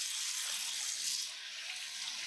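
Water runs steadily from a tap into a sink during handwashing with soap, a constant broadband splashing hiss with no talk.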